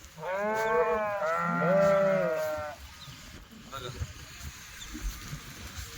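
Kathiawadi sheep bleat loudly and closely in a long wavering call with a second bleat right after, followed by rustling and faint farmyard noise.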